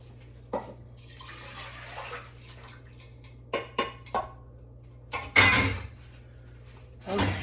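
Cooking pots are swapped in a home kitchen, with scattered metallic clunks and knocks, a brief burst of running water, and another clatter at the end; there is no talk.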